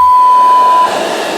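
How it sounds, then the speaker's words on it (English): An electronic robot emits a steady, loud, pure-toned beep lasting nearly a second, followed by a softer fading tail, heard alone and up close. "Toasty beeped twice."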